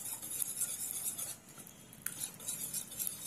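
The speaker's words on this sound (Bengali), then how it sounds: "এবার এই বাটারটাকেও এই ডিম দিয়ে ফেটিয়ে নেব" Butter being beaten together with eggs in a bowl for a fruit cake, a continuous scraping and clinking of a utensil against the bowl, close and steady, with no voices.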